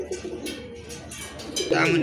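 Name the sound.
pigeons cooing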